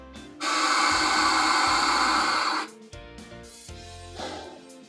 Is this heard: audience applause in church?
no